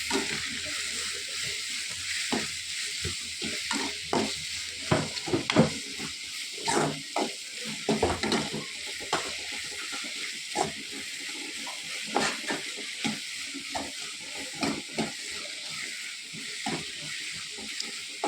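Tomato masala sizzling and frying in a pan for egg pulimunchi, with a spoon scraping and stirring in repeated strokes over a steady close hiss; no talking.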